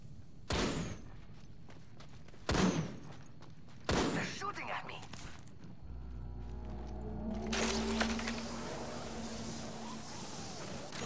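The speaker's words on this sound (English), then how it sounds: "The enemies are shooting at me." Three sharp, isolated gunshots spaced a couple of seconds apart in Apex Legends, followed by a low mechanical hum and clattering, faint overall.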